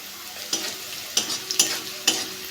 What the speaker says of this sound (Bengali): কাঁচা লঙ্কা দিয়ে দেবো একটু ভেজে নেব